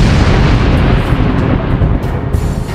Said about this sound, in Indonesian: Dari kejauhan, sebuah ledakan besar jelas terlihat.